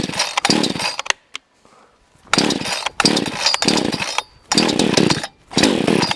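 A cheap chainsaw runs loud and close in several bursts of harsh, buzzing revving. The bursts are separated by brief drops to idle and near silence.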